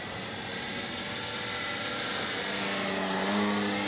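A CNHL Bison XT RC bush plane flying on its maiden flight, its electric motor giving a steady whine and buzz that swells slightly louder toward the end, with no talk.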